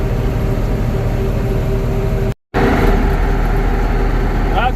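A John Deere 6620 Titan II combine pulls up to a seed tender at a soybean plot with a loud, steady engine rumble and drone. The sound drops out briefly midway and then resumes.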